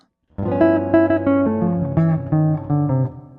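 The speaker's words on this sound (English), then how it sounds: "The first one is a great tonic dominant line and sounds like this." A short jazz tonic-dominant line: quick melodic notes played over a sustained chord, smooth and jazzy, ending on a held note.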